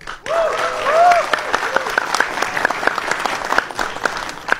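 A crowd applauds during a political talk on free school internet and free lunch programs, sustained dense clapping with cheers and whoops rising early, voices mixed in.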